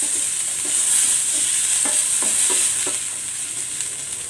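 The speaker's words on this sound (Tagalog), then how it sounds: "maglalagay ako ng cooking oil. Igigisa ko muna tong bawang." Garlic sautés in hot cooking oil with a loud, dense, even sizzle and a few soft stirring scrapes, with no voices.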